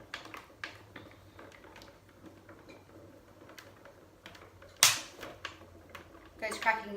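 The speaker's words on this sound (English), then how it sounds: "Those cracking noises are completely normal." Card being die-cut in an Easy Press machine with pink and blue plates gives off a sudden loud crack, followed by a cluster of sharper crackles near the end, over a quiet background.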